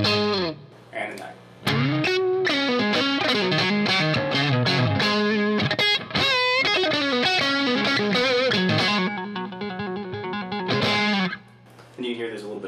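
Electric guitar fitted with DiMarzio Bluesbucker pickups played through distortion, with loud sustained chords and riffs and a short pause partway; a voice also talks over the playing.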